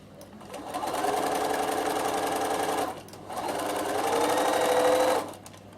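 Sewing machine top stitching fabric, with two steady runs of fast whirring stitches separated by a short pause, close and even in volume.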